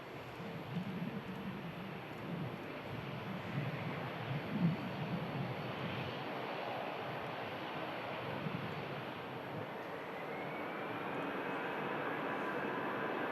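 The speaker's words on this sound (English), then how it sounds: "I can hear the buzzsaw of an EasyJet taking off" An EasyJet jet airliner taking off at Manchester Airport, a sustained roaring engine rumble with a rising tonal whine, moderately distant and steady throughout with no talk.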